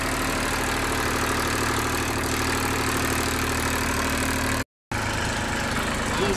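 A new tractor engine idles steadily on flat ground, a loud continuous low rumble with a brief cut partway through, no voices.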